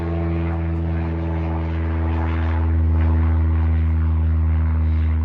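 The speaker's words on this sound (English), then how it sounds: "there's a plane, small plane flying over here." A small propeller plane passes overhead with a steady droning engine hum that swells slightly midway, continuous and fairly loud throughout.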